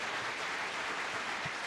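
A studio audience claps for a Spanish-language talk show, a dense, even burst of applause that holds steady throughout without any speech over it.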